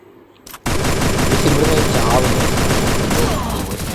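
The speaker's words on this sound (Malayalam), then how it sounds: "ചത്തു, എനിക്ക് വെടി കിട്ടി. സോ AWM ആയിരുന്നെന്ന് തോന്നുന്നു കയ്യിൽ" Gunfire in the Free Fire video game, with an AWM sniper rifle in play: a sudden loud burst of shots erupts after a brief quiet start and continues densely to the end.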